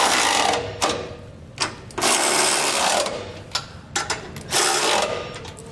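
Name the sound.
tightening trailer hitch nuts with socket and wrench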